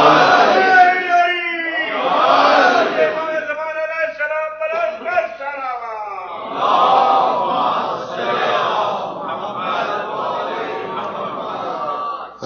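A crowd at a Shia majlis gathering in a Chicago hall shouts the Naara-e-Haidari slogan in loud, repeated bursts of massed voices, swelling and falling in waves across the hall.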